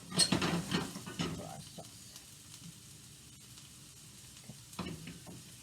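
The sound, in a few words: peppers sautéing in a pan for sauce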